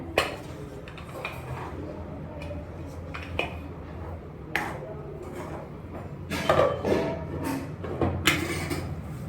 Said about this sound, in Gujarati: તો જો હમણાં હવે ઢાંકણ ઢાંકી દઉં એને.